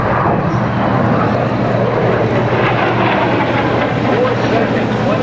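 Carrier air wing jets break overhead for landing at a naval air station fleet flyby, a loud steady roar of engine noise sustained throughout without pause.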